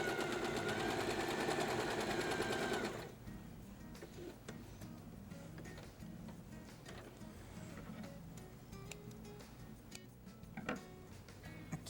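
A sewing machine stitches patchwork fabric for a table runner, running loud and steady for about three seconds before stopping, leaving a quiet room with faint handling sounds.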